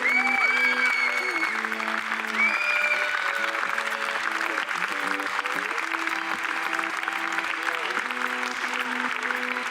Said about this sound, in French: On peut l'applaudir encore très fort.